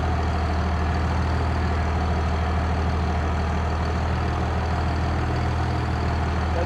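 A working old tractor engine idles steadily, a low, even diesel rumble that holds constant throughout, close and fairly loud, with no voices over it.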